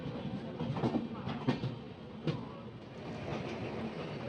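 An ALCO WDM3A diesel locomotive train at Lucknow, with a steady rolling rumble and a few distinct rail clicks and clanks, moderately near and without clear talk.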